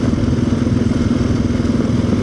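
Motorcycle engine rumbling while riding over marble gravel, a loud, steady mid-pitched drone with a gritty clatter and crackle of tires on loose stones throughout.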